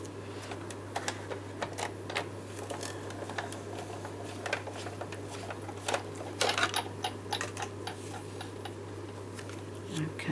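A hand-cranked Big Shot die-cutting machine runs a washi-taped card through, giving a string of irregular ticks and clicks over a steady low hum, with no one talking.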